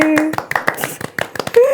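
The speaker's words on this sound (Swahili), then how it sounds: "Makofi." A few people clap in scattered, uneven bursts to welcome a guest on a podcast, with voices talking and calling out over the claps.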